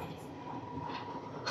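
The Tirupati–Puri Express sits at Srikakulam Road railway station, producing a faint, steady low rumble of rolling stock that holds evenly throughout a brief moment.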